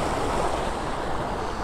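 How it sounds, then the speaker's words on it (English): Water flowing steadily along a beck beside houses in York, a continuous broadband rush heard close and alone without any voices. "as you can see the water is flowing quite well"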